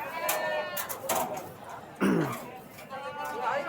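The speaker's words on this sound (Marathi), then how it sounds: "मेंढ्या असतील, बोकडं, शेळ्या, वेगवेगळ्या क्वालिटीतल्या शेळ्या आपल्याला या लोणंदच्या बाजारामध्ये पाहायला मिळतात" Goats and sheep bleating at the crowded Lonand livestock market, several wavering calls overlapping near and farther off amid busy crowd chatter and people talking.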